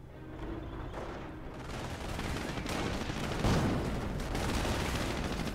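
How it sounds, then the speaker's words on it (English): Mortar shells land in the World War II strategy game Company of Heroes during the battle for Cherbourg, a continuous rumbling barrage of distant booms and gunfire that grows slightly louder toward the end. "So that's my mortars coming in"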